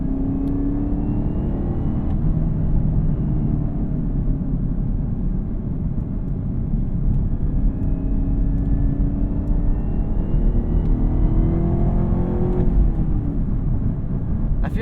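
A 2021 Chevrolet Camaro ZL1 cruises with a steady, loud engine drone and tire roar, its pitch easing and rising slightly with gentle throttle changes and a brief shift near the end, continuous and close with no talking.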